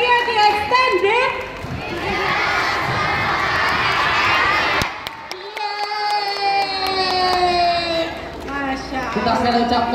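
Crowd of young men at a community youth gathering shouting and cheering together, a loud sustained roar with rising whoops that dips briefly midway, then swells again.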